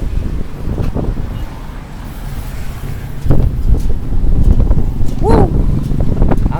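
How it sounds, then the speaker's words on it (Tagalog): Wind buffets the microphone on the Dapitan City seashore in a continuous low roar that swells in the second half, with brief bursts of voice over the gusts. "Ang lamig ng hangin, ganda ng simoy ng hangin."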